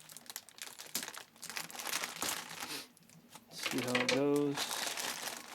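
A plastic filament storage bag being cut open and crinkled, with close, loud crackling and rustling throughout, and a person speaking briefly near the end.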